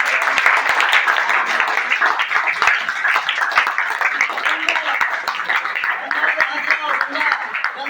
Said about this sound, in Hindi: एक बार अपने लिए ताली मारते हैं।